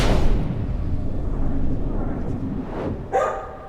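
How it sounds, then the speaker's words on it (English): A family dog barks somewhere upstairs in a house, muffled and distant under a low rumbling background, with a sharper bark or yip near the end. "startled by the sound of their family dog barking incessantly, somewhere upstairs"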